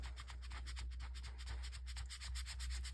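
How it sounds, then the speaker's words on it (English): A vinyl squeegee gently pushes vinyl down onto a tray in a steady, faint rubbing scrape, with no voices. "we're gonna take our vinyl squeegee and we're just gonna start to gently push"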